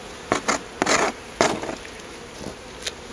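Honeybees buzz up close around an opened hive in uneven bursts, with soft rustling and tapping mixed in, and no one speaking.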